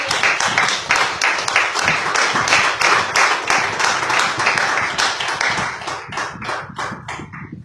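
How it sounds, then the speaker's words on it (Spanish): A church congregation claps loudly in unison during a sermon, a strong rhythmic series of sharp synchronized claps that loosens and thins toward the end. "Denle un aplauso al Señor."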